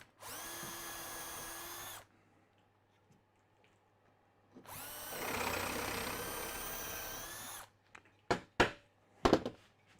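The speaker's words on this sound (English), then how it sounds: "I'll just drill a hole." A power drill bores a hole in a piece of wood for a wood plug on a garden bench seat, with two sustained whirring runs separated by a pause, followed by a few sharp knocks and clatters.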